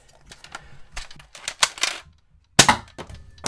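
A Shell Strike toy shotgun blaster is front-loaded and fired: a string of sharp plastic clicks and clacks, a short pause, then a louder snapping burst of the shot near the end.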